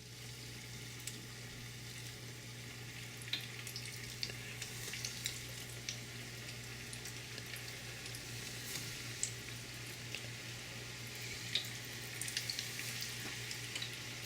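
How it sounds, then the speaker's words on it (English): Chicken fries crackle and bubble in hot frying oil, a steady soft sizzle with scattered small pops, close and alone. "Alright, so my oil's hot. So we're going to start putting these in one at a time."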